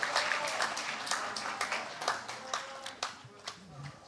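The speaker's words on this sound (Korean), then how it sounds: "박수 한번 쳐주세요" Scattered audience applause at a citizens' public forum, a moderately quiet patter of hand claps that thins into separate claps toward the end, with talk mixed in.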